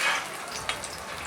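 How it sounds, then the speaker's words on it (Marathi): Vegetable cutlet patty frying in a pan until golden brown, a soft, quiet continuous sizzle with a faint crackle or two, no talking. "आणि दोन्ही साइडनी गोल्डन ब्राउन असं फ्राय करून घेऊया"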